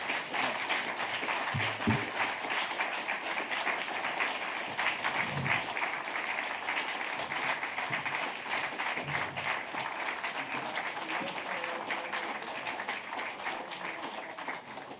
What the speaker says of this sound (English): Come up and let everybody applaud you